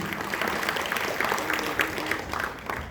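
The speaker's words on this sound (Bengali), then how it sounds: "আরেকটু জোরে হাততালিটা" An audience at an annual cultural function in a Kolkata auditorium claps in a steady, dense wash of applause that holds throughout the short stretch, with voices faintly mixed in.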